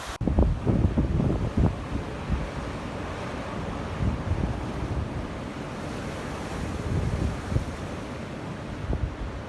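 Storm winds with 85 knot gusts at Lake Bala roar continuously, loud and rushing, with surging gusts and wave-like wash and no voices.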